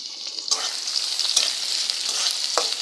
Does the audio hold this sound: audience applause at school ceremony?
no